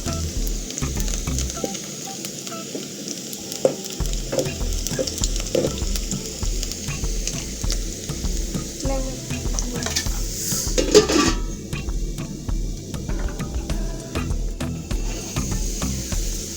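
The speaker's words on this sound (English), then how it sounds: "I'm frying my onions till they turn golden brown." Food sizzles steadily in a hot pan while a utensil stirs and scrapes against the metal, with occasional clinks, close and continuous.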